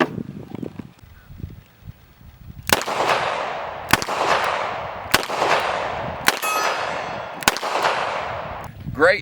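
A Smith & Wesson Airweight snub-nosed revolver fires five sharp shots at an outdoor range, each crack spaced roughly a second apart and ringing out into a metallic decay, with a faint voice early on.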